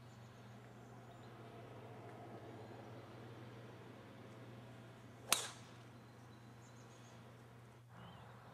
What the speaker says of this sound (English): Here's Rob teeing off on the first hole of his first round